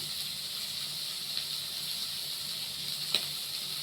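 Prawns fry in a pan with a steady, soft sizzle and a couple of small pops, quiet and continuous with no talking.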